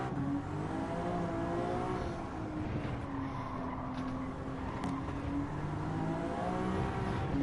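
Engine of a race car revving steadily in a driving video game, a continuous whining drone with pitch rising and falling through gear changes, loud and constant without voices.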